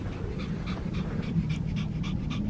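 A dog pants steadily and rapidly close to the camera outdoors, a rhythmic string of quick breaths with no talking over it.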